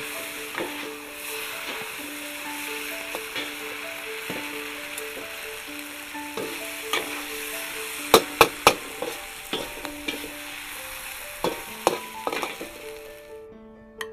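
Meat and vegetables for pad see ew stir-fry in a hot pan, with a steady sizzle, intermittent scraping and clanking from stirring, and a few sharp metallic knocks near the end.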